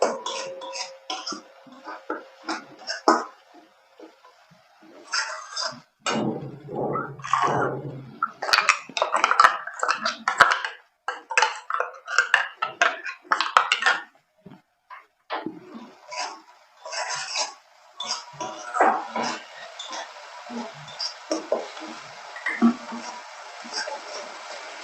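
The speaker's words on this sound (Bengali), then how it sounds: "এবার এটাকে আমি ভালো করে নেড়ে নিচ্ছি।" Spice paste with Kashmiri chilli powder stirred by hand in a bowl, giving irregular scraping and clinking taps of a spoon against the bowl, close and moderately loud, with short pauses between strokes.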